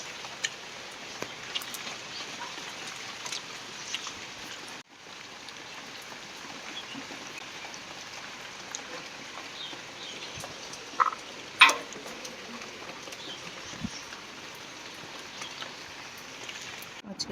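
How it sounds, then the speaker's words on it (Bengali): Sudden rain falling outside a home on a sunny day, heard as a steady soft hiss of rainfall throughout, with frogs croaking nearby and a few faint knocks. "এখন বাইরে রোদ হঠাৎ করে বৃষ্টি হচ্ছে"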